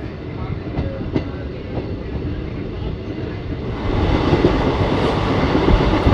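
Ahmadpur–Katwa passenger train running on the rail line, a steady broadband rumble of wheels and carriage with faint rhythmic clacks, growing louder and rougher partway through, heard from on board.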